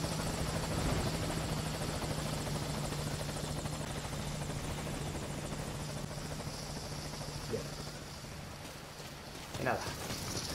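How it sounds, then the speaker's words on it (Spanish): Helicopter in the video game Metal Gear Solid V: Ground Zeroes, a continuous loud rotor buzz and engine drone throughout, with a low steady hum that cuts out near the end, under faint game sounds. "Esperemos que no tenga problemas el helicóptero"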